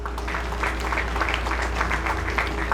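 A school athletic awards ceremony audience applauds the 2020-2021 girls weightlifting team with steady, dense clapping that fills the whole moment, over a low constant hum.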